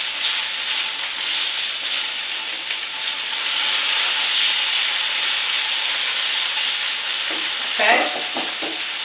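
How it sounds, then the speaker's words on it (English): Curry chicken is stirred in a pot, scraping up the bottom, over a continuous loud sizzle and hiss, with a brief clatter of the utensil near the end; no talking. "Give it a nice little stir. I'm going to pick all that up at the bottom."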